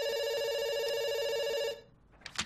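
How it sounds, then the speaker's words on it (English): A telephone rings in a heist video game, one long steady electronic ring lasting well over a second before cutting off, followed by a short faint noise. "It's ringing."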